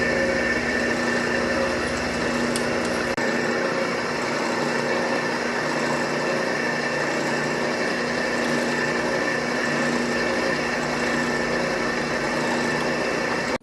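A number 26 drill bit boring a hole in an antique carpenter's wooden tool box, a steady motor whine running continuously and loudly at close range, with no talk.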